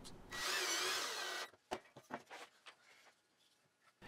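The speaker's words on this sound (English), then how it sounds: "Drilling, counterboring, and driving in the second bolt." A power drill whines steadily for about a second, then stops, followed by a few short scraping and knocking sounds of counterboring and driving a bolt into wood.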